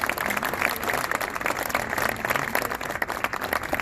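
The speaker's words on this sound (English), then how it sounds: "Give yourselves a round of applause." Audience applause at a Cardinals Care grant presentation ceremony, a dense steady wash of clapping filling the room without pause.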